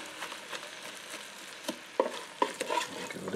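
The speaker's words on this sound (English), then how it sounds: "Give it a good mix." Corned beef is stirred in a hot pan, a soft sizzle running beneath a few sharper scrapes and taps of the utensil, close and quiet with no voices.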